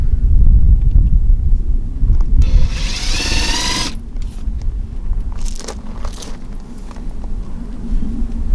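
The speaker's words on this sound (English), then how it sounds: "And now I'm ready to drill my holes." A power drill bores a starter hole in a door for the handle and lock knob, a bright whining burst of roughly a second mid-clip over steady low handling noise and rustle.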